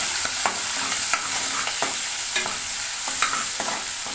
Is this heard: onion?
yes